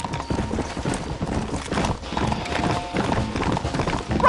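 Horse hooves clip-clop at a steady trot in a video game, a continuous galloping rhythm running the whole time under music and game sounds.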